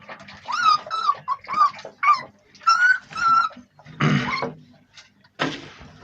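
A Pakistani bully puppy gives a string of high, close whimpers and short yips in uneven bursts, ending with a few rougher, breathy cries.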